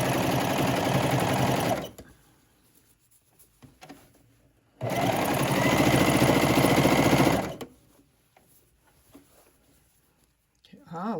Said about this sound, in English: Before you start sewing on the real thing,